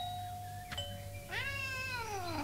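A cat gives one clear, close meow that rises and then falls, following a soft tone and a brief knock in a quiet room.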